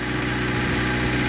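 A battered demolition derby car's engine idles with a steady, close, throbbing rumble and vibration.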